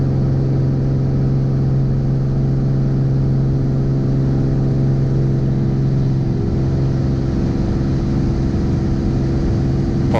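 Continentql IO-520 piston engine of a Bonanza airplane roaring steadily at full power during takeoff, a loud, constant drone with strong low harmonics filling the whole span, pitch shifting slightly partway through.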